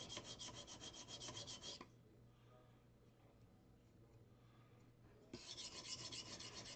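A knife blade's heel scraped against a sharpening stone in rapid rhythmic rasping strokes, close and steady. The strokes come in a burst at the start, pause for a quieter stretch, then resume near the end.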